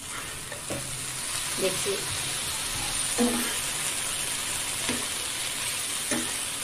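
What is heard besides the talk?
potatoes cooking in butter in a pan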